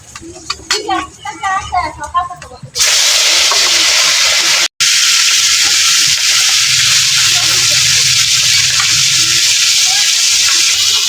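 Sarputi fish frying in a pan, a steady broadband sizzle that starts loud after a few seconds of talk and holds constant, with a brief dropout partway through.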